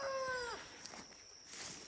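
A chicken gives a short rising squawk at the start, then quieter faint sounds follow over a steady background hiss.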